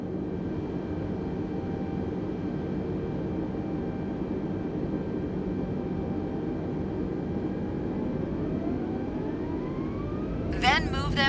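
Airliner jet engines whining and spooling up in Microsoft Flight Simulator on Xbox, a steady loud roar with rising tonal whine toward the end, while someone talks over it.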